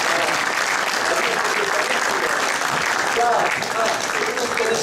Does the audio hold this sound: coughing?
no